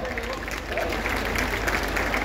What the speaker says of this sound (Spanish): Quiero pedir un fuerte aplauso al Gaby y a la técnica también.